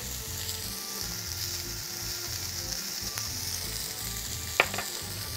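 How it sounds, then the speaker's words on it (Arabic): Vegetables and white beans sizzling in oil in a cast-iron pan as they are stirred, a steady close frying hiss with light scraping and one sharp clink near the end, and no talking. "كل ده يتقلب مع بعضه مع شويه زيت"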